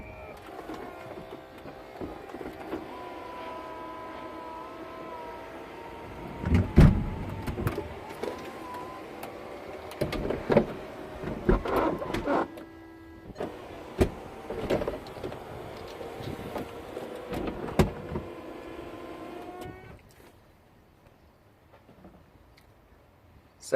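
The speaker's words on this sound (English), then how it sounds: "we can watch that roof go up and down now" A Volkswagen Eos convertible's electric roof runs through its opening and closing cycle, a steady motor whine with clunks and latch knocks as the panels and flaps move, sounding close and alone before it stops near the end.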